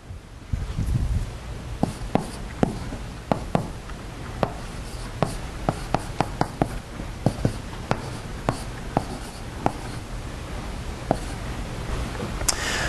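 Marker or chalk writing on a board during an electrostatics lecture, a series of short scratchy strokes and taps spread irregularly across the clip, close and clear with no talking.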